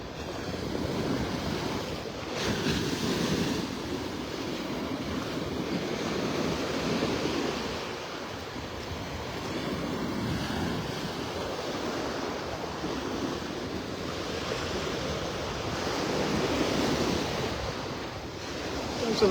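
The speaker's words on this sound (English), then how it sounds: "A lot of serotonin in the air with these waves." Ocean waves on Vanderbilt Beach in North Naples, Florida, wash in and recede in slow surges over a steady surf wash, with wind buffeting the microphone and no voices.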